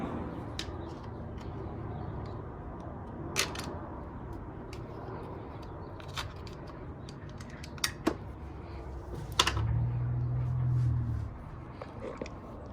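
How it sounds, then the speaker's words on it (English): A small flathead screwdriver prying clips off the valve cover of a 1995 Honda Civic, heard as sharp scattered clicks and snaps over a faint background hum, close up, with one longer scraping stretch near the end. "some of these things don't want to come off, so we're just gonna get a little flathead and pop them out"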